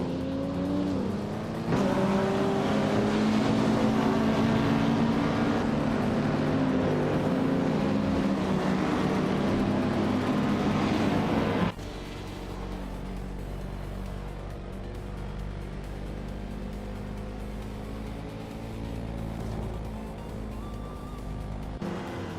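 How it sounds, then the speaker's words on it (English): Vintage 1955 Porsche 356A and a field of race cars at Interlagos in a racing game, engines droning loudly with rising and falling revs and a gear change, then settling to a lower steadier hum. "the race is off at Interlagos with chubby boy RJ starting on pole in a vintage 1955 Porsche 356A"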